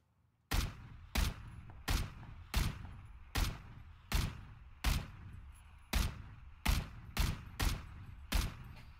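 Rapid gunfire in the video game PUBG, a string of about a dozen loud, sharp shots at a steady rhythm, close and dominant with no talk over it.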